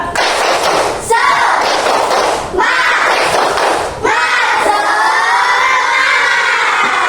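A class of schoolchildren performs a rhythmic cheer clap in a classroom, with loud, close group voices shouting in unison and a few sharp claps marking the beat over about seven seconds.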